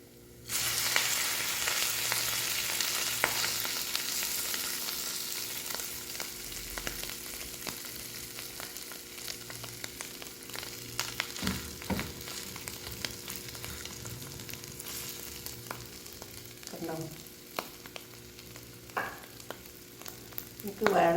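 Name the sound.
tuna sandwich frying in butter in a pan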